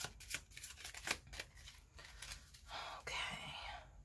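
A deck of tarot cards is shuffled close up with quick riffling and papery flicks in several short bursts, followed by a softer sliding rustle.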